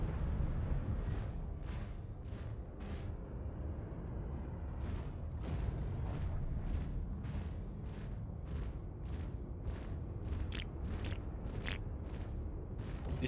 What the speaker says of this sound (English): These cannons still don't sound great either, but they still sound less wimpy than the Omniskis.